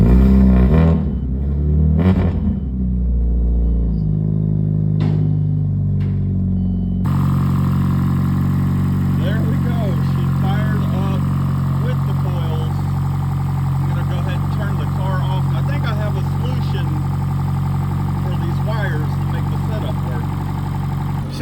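A Chevy Cruze fitted with upgraded ignition coils cranks and catches, then settles into a steady, smooth idle with a constant engine drone, close and loud. Someone talks briefly over the cranking.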